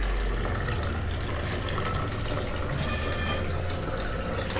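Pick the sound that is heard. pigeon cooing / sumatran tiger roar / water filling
water filling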